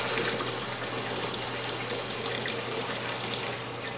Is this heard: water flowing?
yes